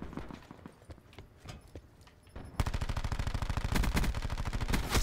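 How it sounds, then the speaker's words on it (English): Burst-fire gun shooting in the Black Ops 4 video game, scattered shots at first, then rapid dense volleys of loud gunfire packed closely together in the second half. "it's the burst gun"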